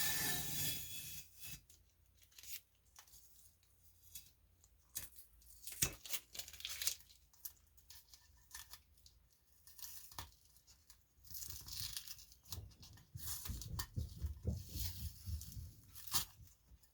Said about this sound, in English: You're going to be pulling off the painter's tape.